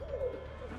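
A pigeon coos in the video game Marvel's Spider-Man Remastered, a soft low warbling call heard once against a faint background bed, quiet and close, with no talk.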